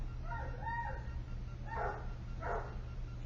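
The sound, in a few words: large dog barking outside near garage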